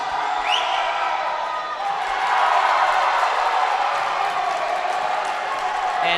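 A high school basketball crowd in a gym roars and cheers after a missed technical free throw, a broad sustained swell that builds midway and stays loud, with commentators talking over it.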